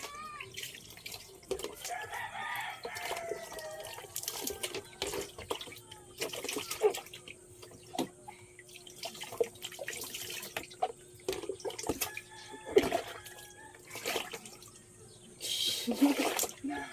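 Water splashing and dripping while a baby is bathed, with scattered sloshes and small bursts over a quiet room, a thin steady tone in the background and occasional voices.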